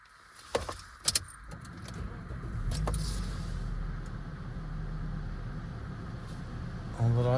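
2008 Toyota Yaris taken for a drive to warm its engine oil: a few sharp clicks and clunks open, then a steady, even engine and road hum continues close by.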